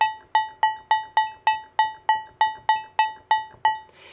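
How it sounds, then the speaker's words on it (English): A lead synth with a subtle dissonant string effect repeats about a dozen evenly spaced plucky notes, each sharp attack decaying quickly, alone and fairly quiet. "I added a dissonant effect called string, which is pretty subtle"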